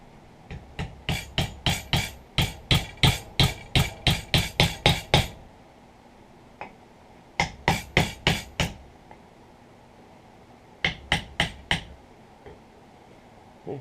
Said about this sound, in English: We'll take the pins, ball peen hammer. Now what that does, that expands that brass on the inside